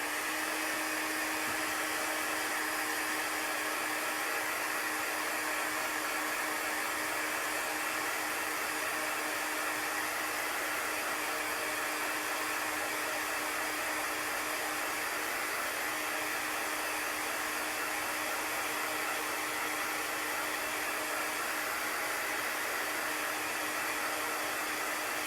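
A hair dryer runs steadily and loudly for the whole stretch, drying white chalk marker on a board, a constant whooshing roar with a faint whine and no talking.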